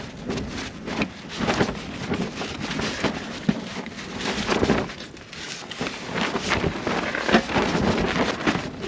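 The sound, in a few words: wind in the desert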